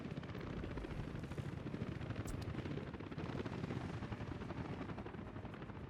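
Helicopter in Workers & Resources: Soviet Republic, a steady rapid rotor chop throbbing continuously at moderate, fairly faint level.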